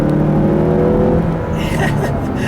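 A 2018 Mazda3 Grand Touring engine accelerating from inside the cabin, a steady rising drone of engine harmonics that eases off about halfway, close and fairly loud.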